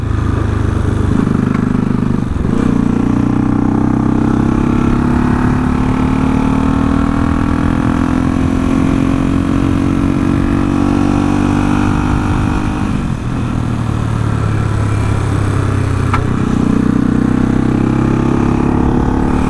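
Motorcycle, a Suzuki GS1000, cruising at about 100 km/h, a steady loud engine drone with gear-shift dips in pitch, plus wind noise, no talking.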